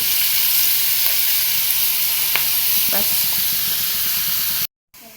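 Onions and chillies frying slowly over low heat in a pan, a loud continuous sizzle with a few faint clicks, cutting off abruptly near the end.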